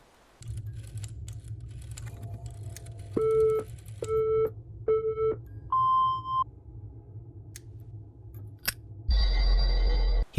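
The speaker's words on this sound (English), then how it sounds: "The line was dead." An indie horror game plays a dead phone line: three evenly spaced beeping tones, then a longer single tone over a low droning hum, ending in a burst of noise.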